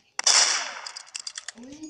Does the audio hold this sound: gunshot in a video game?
yes